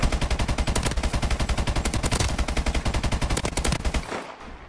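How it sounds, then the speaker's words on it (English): A light machine gun fires in the video game Call of Duty: Advanced Warfare, a loud, rapid, unbroken burst of shots lasting about four seconds before it cuts off abruptly. "This is another light machine gun."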